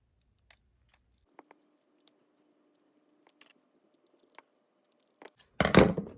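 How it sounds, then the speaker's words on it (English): Scissors cutting rounded corners on metal tape measure pieces: sparse, faint snips and ticks spread over several seconds, ending in a louder rustling scrape. "I'm gonna round these corners so it doesn't bust through the fabric."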